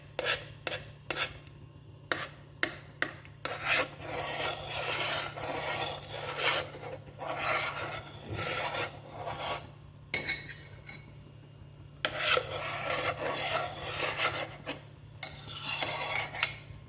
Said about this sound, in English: And I'm going to stir it to avoid the formation of lumps.